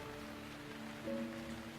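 Steady rain from the video game Gemini Rue on a rainy night, a soft, even patter of drops on surfaces that stays quiet and continuous throughout, with no voices.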